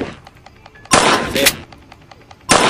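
A shotgun fired in the horror video game Granny 2: two loud, sharp blasts about a second and a half apart, each with a short, harsh tail, over quiet game ambience.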